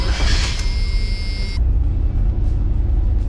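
A Chevy S10 pickup engine fires up and runs with a steady, close, low rumble. A high whine rides on top for the first second and a half, then drops away, leaving the engine running alone.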